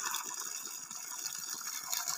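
Water gushes steadily from a 3 HP Ecozen solar borewell pump through a 1.5-inch pipe on a farm, a constant hissing splash that runs evenly and close by.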